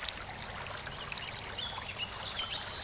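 Water pours and trickles over bare feet during ablution, a continuous soft splashing stream, close and steady without pause.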